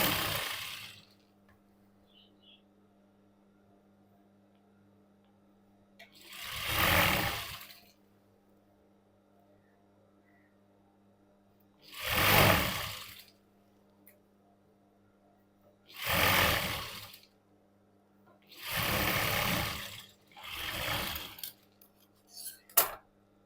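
Sewing machine stitching a Brahmani saree, five separate bursts of close whirring separated by quiet pauses, with a low steady hum in the background and no talk.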